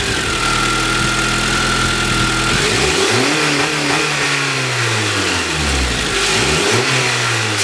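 A hot car engine with a stock intake idles steadily, then revs twice, each time climbing and falling back to idle, loud and close with no talk.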